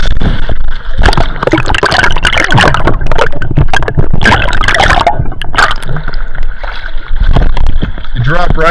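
Diver splashing into rocky sea water off the Oregon coast while spearfishing, loud close sloshing and gurgling water with splashes throughout, under excited talking.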